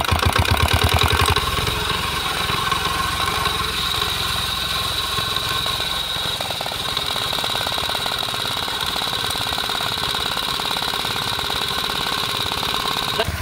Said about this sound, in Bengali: এই যে এখানে আমাদের এক ভাই মেশিন স্টার্ট দিতেছে, যদিও প্রথমবারে হইল না, আবার চেষ্টা করবে।